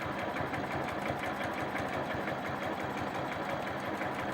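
A sewing machine stitches through a quilt in a steady, continuous rapid hum with a fast regular needle rhythm, close and fairly quiet, running alone without pauses.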